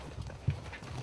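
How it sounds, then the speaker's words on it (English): A horse pulling a cart clip-clops along a dirt track in the Cuban countryside, soft hoof thuds with one firmer strike, fairly quiet under a background of rolling wheels and ambient noise. "we've taken this horse and cart to carry us deep into the Cuban countryside"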